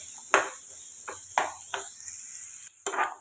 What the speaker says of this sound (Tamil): கொஞ்சம் முந்திரி, இதையெல்லாம் வறுத்து எடுத்துக்கலாம். லேசாக வதக்கலாம்.